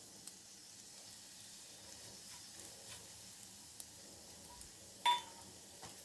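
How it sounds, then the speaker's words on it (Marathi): Cumin and mustard seeds sizzle faintly in hot oil in a pan, a soft, steady crackle with scattered pops and one sharper clink partway through. "तर आता तेल तापल्यावर आपण ह्याच्यात जिरे मोहरी घालून घेऊ."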